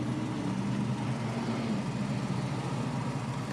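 Infiniti Q45 V8 engine pulling in gear at very light throttle, a low, even hum that stays steady and moderately quiet, with no speech over it.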